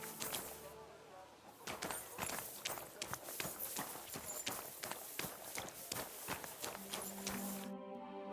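Hooves clip-clop steadily on hard ground as a horse walks in the medieval video game Kingdom Come: Deliverance 2, a regular close rhythm of crisp knocks over a soft ambient bed, with a brief low voice near the end.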